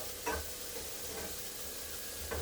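Steady sizzling of chicken browning in a pan, with a couple of faint clinks of a utensil.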